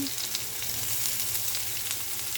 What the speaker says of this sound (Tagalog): So, nilagay ko na po agad yung bawang.